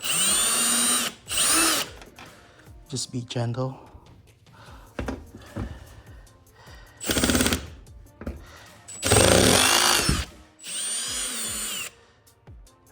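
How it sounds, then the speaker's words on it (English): Bursts of a power drill whirring in several short pulses, close by, removing 10 mm bolts from a fifth-generation Toyota RAV4 grille, with a person speaking briefly between runs. "You don't really need a power tool. It's just faster."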